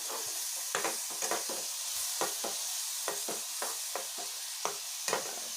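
Masala sizzling and frying in oil in a pan while being stirred for a gravy, with a steady hiss and scattered short scraping stirs of a spoon against the pan, fairly close and with no talk.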